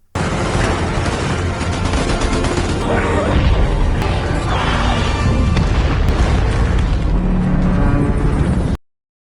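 A loud, sustained explosion sequence from an action film about an elite squad fighting prehistoric predators in the Vietnam War, with booming blasts and crashing debris that run for about nine seconds before cutting off abruptly.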